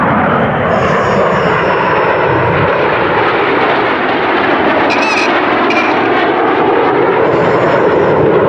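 Red Arrows display jets flying a rollback manoeuvre at Duxford, a loud, continuous roaring jet rush filling the whole stretch with a broad, steady engine wash overhead.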